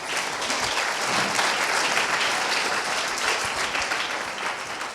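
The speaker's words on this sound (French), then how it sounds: "Applaudissez-la 2 fois" Steady applause from an audience at a foundation's anniversary event, a continuous moderate wash of many hands clapping with a few louder individual claps near the front, no speech over it.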